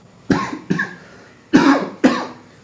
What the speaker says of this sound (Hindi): इसलिए खांसी आ रही है बहुत ज़्यादा